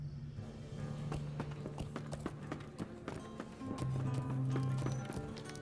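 A glitching horse pet in the online game LOTRO clip-clops in quick irregular hoofbeats over a steady low droning hum, with a soft neigh among the steps.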